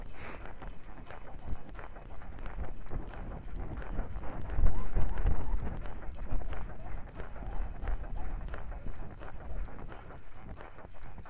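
Horse hooves clip-clopping along a park trail under a rider, a steady rhythmic stream of close thuds with soft ambient noise and occasional talking.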